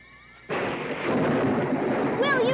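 Thunder from a lightning strike in an episode of the Land of the Lost TV series: a sudden loud crack that becomes a sustained, heavy rumble for about two seconds, with a voice rising briefly near the end.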